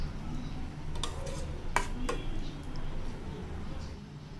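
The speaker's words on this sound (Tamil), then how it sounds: "அதையும் போட்டு நல்லா வந்து மிக்ஸ் பண்ணிடலாம்." Roasted spice powder is stirred into a tomato mixture in a pan for a tomato chutney, giving soft scraping and stirring strokes with a couple of sharper utensil clinks over a faint, steady sizzle.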